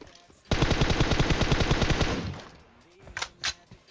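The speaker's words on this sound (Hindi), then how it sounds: "गोली चला रहा हूँ और बहुत कम बर्बाद हो रही है गोली" Automatic weapon fire in PUBG Mobile, one loud sustained burst of rapid shots lasting about two seconds, then a couple of brief sharp sounds.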